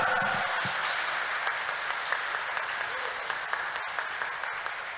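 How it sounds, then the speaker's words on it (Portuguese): A church congregation applauding during an Epiphany Mass homily, many hands clapping in a dense, sustained roar that fades gently toward the end, with no speech over it. "dê uma salva de palmas para Ele"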